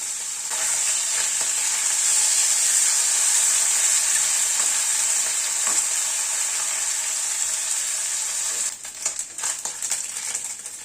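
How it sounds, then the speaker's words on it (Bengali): Mourola fish frying in a batch in mustard oil in a kadai, with a dense, continuous close-up sizzle that drops away near the end into a few softer clatters and crackles. "মাছটাকে আমি 2 ভাগে ভাজছি, কারণ 1 ভাগে ভাজা হবে না"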